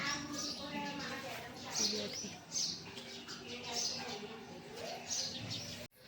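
Sparrows chirping indoors inside a house, several short bright tweets scattered through the stretch, fairly faint and mixed in with someone talking and general room noise.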